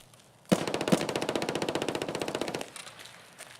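A close, rapid burst of automatic gunfire from a player and a scav in the shooter game Escape From Tarkov, running for about two seconds with sharp evenly spaced shots, then a quieter tail with a few distant reports.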